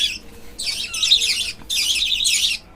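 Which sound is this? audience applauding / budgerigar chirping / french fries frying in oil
budgerigar chirping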